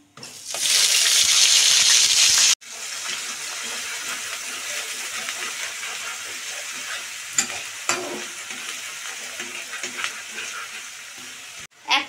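Onion paste hits a pan of hot oil with bay leaf, cardamom, cinnamon, mace and cloves for egg biryani, giving a loud burst of sizzling that settles into a steady frying hiss with occasional stirring clinks.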